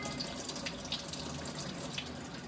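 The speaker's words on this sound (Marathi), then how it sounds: "असं 5-6 वेळा नळाखाली पाण्याच्या झोतवरती करून घ्यायचं।" Soaked moong dal being rinsed under a running kitchen tap, a steady faint splashing stream of water continuing throughout with small bursts as the dal is stirred by hand.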